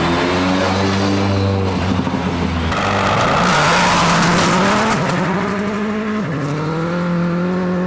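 Petter Solberg's world rally car leaves the ramp at the 2004 Monte Carlo Rally ceremonial start, its engine revving loudly and climbing through the gears as it pulls away close by, with no talk.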